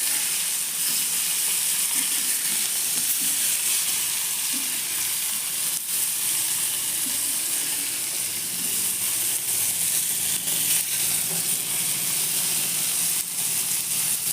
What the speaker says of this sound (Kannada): ಅವನ್ನೆಲ್ಲ ಹುರಿಣ್ರಿ ಈ ಥರ ಹೊಳ್ಳೆ ಹಾಕ್ಕೊಂತ ಹಾಕ್ಕೊಂತ ಫ್ರೈ ಮಾಡೋಣ್ರಿ